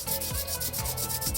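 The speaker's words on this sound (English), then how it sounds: "applying quite a bit of pressure, you're rubbing the surface." A spoon rubbed firmly over paper laid on an inked relief block during hand printing, a steady scraping in repeated back-and-forth strokes, close and alone.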